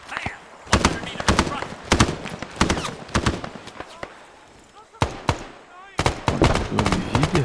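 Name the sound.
gunfire in the video game ArmA 3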